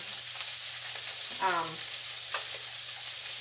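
Breakfast sausages frying in a pan give a steady, even sizzle that runs throughout, with a brief stirring scrape partway through and no talking.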